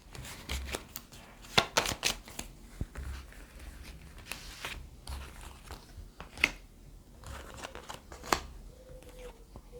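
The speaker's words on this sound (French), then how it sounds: "Donc on va recouvrir les cartes qui..." Tarot cards are shuffled and laid out on a table, with soft slaps, flicks and papery rustles in irregular bursts, close by, under intermittent talk.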